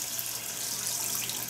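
Hot water runs steadily from a tap in a camper kitchen while a crock pot is being filled, a continuous hissy splashing stream heard up close with no talking.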